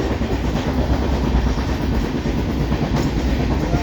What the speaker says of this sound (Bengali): ট্রেনের ভিতরে